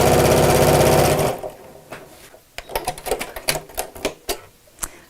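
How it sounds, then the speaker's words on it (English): A sewing machine stitches a zip onto fabric, running in a loud continuous burst for over a second, then stopping; afterward come quieter scattered clicks and taps of handling the fabric and presser foot. "and then carry on sewing."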